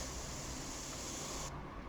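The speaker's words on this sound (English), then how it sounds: "Giving the airbrush a good clean out now anyway." An airbrush being cleaned out, a steady, close hiss of air and spray throughout, with its sharp upper edge cutting out just before the end.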